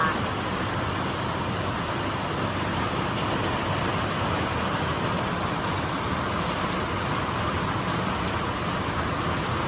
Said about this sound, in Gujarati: જો અવાજ પણ આવી રહ્યો છે, અને ચાલુ થઈ ગયો વરસાદ.